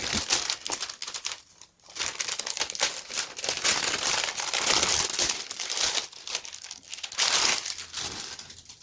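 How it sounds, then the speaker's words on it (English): Cellophane wrap is peeled off an Oblivion 4K steelbook case, with the sticker coming away too. It gives a continuous close, loud crinkling and crackling that swells and dips over several seconds, with no talking. "getting the cellophane on here. Looks like the sticker comes off with it."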